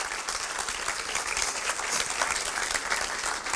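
A church congregation claps continuously, dense and steady applause filling the room without a break, with no talking heard over it.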